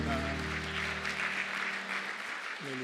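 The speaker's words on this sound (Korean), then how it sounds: "영광의 박수 한 번 더 올려드리겠습니다." A church congregation claps at a Sunday worship service, a broad, even wash of applause heard together with sustained tones from an organ or keyboard that fade and then return near the end.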